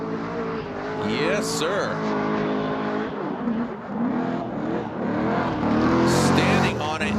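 A BMW race car with a supercharged V8 roars past on Nitto tires during drag-style qualifying, the engine rising and falling loudly over an excited commentator and crowd noise.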